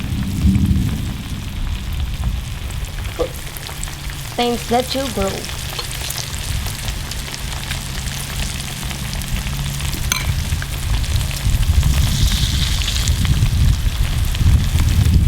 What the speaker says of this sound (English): We don't want to bore you with all of this good frying